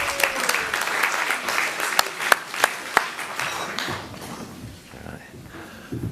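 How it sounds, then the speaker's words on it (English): An audience at an East Suffolk Council energy project briefing claps to welcome a speaker to the stage, a spread of scattered claps with a few sharp close ones, fading out under talk. "Let's give Paul a round of applause."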